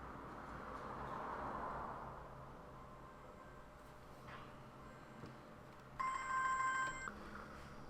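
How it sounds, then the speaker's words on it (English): A telephone rings once in a short electronic burst near the end, over a steady low room hiss in an indoor home setting. "Sorry if you heard some ringing."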